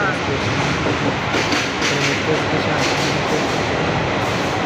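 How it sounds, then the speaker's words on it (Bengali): A metro train rumbles steadily with loud broadband noise and faint rail clatter, heard close up as it moves through Dakshineswar metro station in Kolkata. "Dakshineswar metro station"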